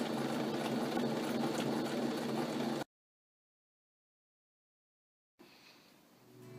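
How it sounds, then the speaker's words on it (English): A sewing machine hems fabric seams for a swing, running in a loud steady rattle for a few seconds, then stopping in silence before starting again. "hem the seam, and included in that will be this back panel. And we'll just sew right together."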